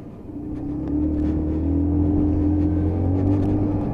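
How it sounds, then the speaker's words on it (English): A Lexmoto Chieftain 125cc motorcycle accelerates over speed bumps with a steady, loud, droning engine note that climbs slightly as it pulls away. "nice and easy just to step on the gas over those speed bumps and away you go"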